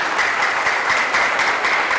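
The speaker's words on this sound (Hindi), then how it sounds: "एक बार जोरदार तालियां इनके लिए होनी चाहिए।" Dense, steady applause from a large crowd, loud and continuous throughout without pause.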